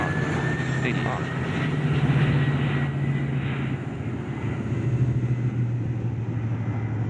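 A Category 1 aircraft taxis toward the runway in the video game Eurofly, a steady droning engine hum with a low tonal rumble holding throughout, under occasional talk.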